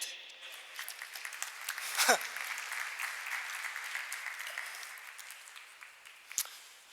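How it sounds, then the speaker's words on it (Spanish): Fairly quiet applause from a conference audience welcoming a speaker, a continuous patter of clapping in a large room that fades gradually, with a brief squeak and a thump mixed in. "recibamos con un caluroso aplauso a Alan Clement"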